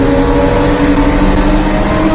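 A heavily loaded Daihatsu mini truck engine drones loudly and steadily up close, a continuous low rumble with a slightly tonal hum while driving.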